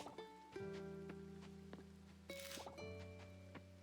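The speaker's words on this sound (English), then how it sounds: "The rainy days in Coral Island are so pretty." Rain in the farming video game Coral Island, a soft steady patter running under layered game music tones and chimes, with no talking.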